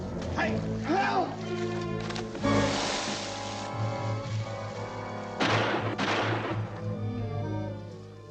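Two gunshots in a 1957 zombie film, each a sharp loud blast standing out over a dense soundtrack with a voice calling out.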